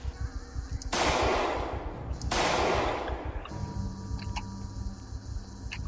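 Gunfire in the video game Project Zomboid: two loud, sharp gunshots about a second and a half apart, each followed by a decaying ring, then a third softer report, with no talking.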